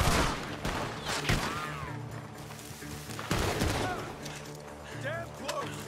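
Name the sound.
gunfire from a barn in video game Red Dead Redemption 2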